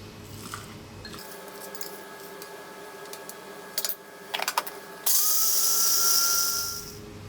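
A spice grinder making curry powder: a quiet hum with a few clicks gives way to a loud, harsh whirring grind that runs steadily for about two seconds and then winds down.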